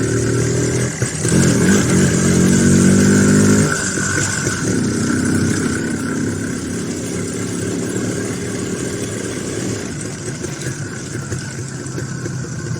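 An IZh Planeta 5 enduro motorcycle engine riding along a road home, a loud steady droning motor with a harsh rise at the start, then a constant mid-pitched hum and wind rush continuing close throughout.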